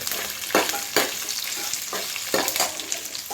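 Spices for Mangalore-style mutton pulimunchi fry in a hot pan, a steady close sizzle broken by several sharp scraping stirs at irregular intervals, with no talking.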